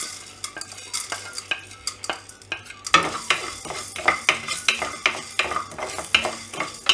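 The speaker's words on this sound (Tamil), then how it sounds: "ட்ரை ரோஸ்ட் பண்ணும்போது லோ ஃப்ளேம்லேயே வச்சு ட்ரை ரோஸ்ட் பண்ணுங்கள்." Spices and peppercorns dry roasting in a pan over a low flame, stirred with a utensil that scrapes and taps the metal in a steady repeated rhythm, close up, with a faint dry sizzle underneath.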